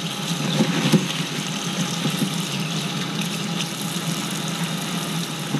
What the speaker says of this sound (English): So now I'm about to rinse it off.